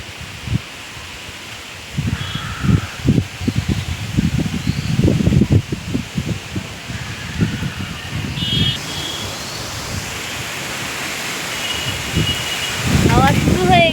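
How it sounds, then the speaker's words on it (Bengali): Wind gusting through trees beside a house, leaves rustling in broad, swelling waves of noise that rise and fall, with a plastic tarp on a neighbouring building under construction nearby and a voice speaking over it. "এই তো হাওয়া দিচ্ছে এবারে"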